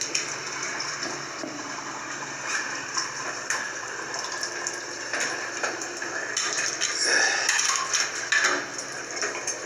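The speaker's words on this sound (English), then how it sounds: "When you turn on the one on the left, that water will come out fast." Water gushes fast and steadily from a faucet, a continuous loud rushing hiss running through the whole stretch with small fluctuations.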